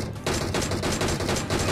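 Dense gunfire in the mobile game PUBG Mobile, a loud rapid string of shots filling the short moment without pause.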